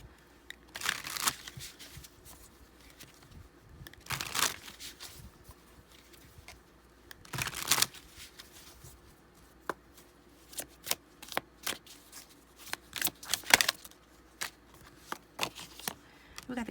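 An Art Deco Tarot card deck is shuffled in several close, crisp bursts of riffling and flicking, separated by quieter pauses with small handling clicks.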